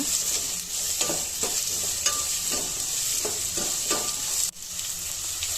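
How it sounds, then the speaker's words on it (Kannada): Onions sizzle steadily in hot oil with green chillies and curry leaves, with repeated scraping and stirring strokes from a spatula in a pan, close and fairly loud, no voices. "ಈಗ ಈರುಳ್ಳಿ ಹಾಕಿ ಚೆನ್ನಾಗಿ ಫ್ರೈ ಮಾಡ್ಕೊಳ್ಳೋಣ"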